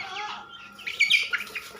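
A silkie hen clucks softly at close range in a poultry pen, a few short, faint murmured calls with some brighter chirps in the middle.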